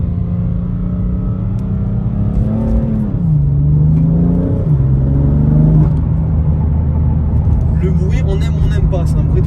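A BMW M3 Competition engine drones and rumbles steadily, rising and falling in pitch as it revs, heard from inside the car.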